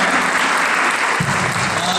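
A seated audience at a cultural program applauds a singer, producing a loud, continuous wash of clapping with a low thump entering partway through.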